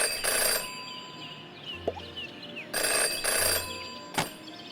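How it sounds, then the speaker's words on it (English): An old-style telephone bell ringing in the detective video game Jenny LeClue, two sets of loud double rings separated by pauses, with faint chirps and a soft thump between them. "Jenny had learned never to ignore a ringing phone"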